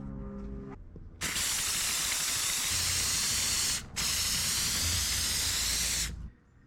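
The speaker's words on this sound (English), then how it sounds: "So I'm gonna go ahead and primer the rest of it" Two long, steady hisses of an aerosol primer spray can, close up, coating a 1973 Toyota Celica dash, separated by a brief pause, with a faint rattle before the first burst.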